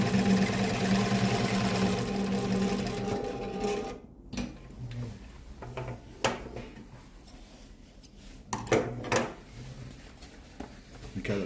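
A compound feed sewing machine topstitching leather runs in a close, even mechanical whir for several seconds, then stops, followed by scattered handling clicks and a few brief restarts.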